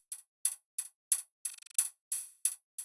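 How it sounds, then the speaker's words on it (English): A closed hi-hat built from a sine wave sample and run through a vocoder in noise mode plays eight short, crisp ticks in an even electronic rhythm, with a quick stuttered roll in the middle, bright and alone. "Let me show you the closed hat."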